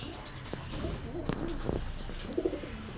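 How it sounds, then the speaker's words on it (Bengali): Pigeons cooing in a home pigeon loft, low soft coos repeating at moderate distance amid light background noise, with a couple of louder coos near the end. "এই যে এখানে তিনটা কবুতর আছে"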